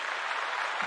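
Dense crowd applause, a steady wash of many hands clapping at even loudness throughout, heard alone with no talking, cheering on a live stream.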